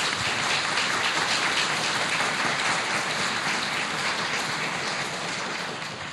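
A seminar audience applauds after a talk, a dense, steady wash of clapping that holds throughout and fades slightly at the end.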